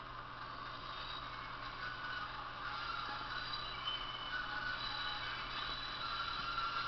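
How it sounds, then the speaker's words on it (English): Wheel flange noise from a model Class 108 DMU with a Zimo MX648R sound decoder, heard over the running engine: a continuous rumbling drone with faint high squeals and scraping coming and going, steady and moderately quiet throughout. "We've also got wheel flange noise."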